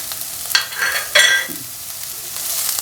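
Chopped spring onion stems fry with onion in a pan, giving a soft sizzle under a few sharp scrapes of stirring. No one talks.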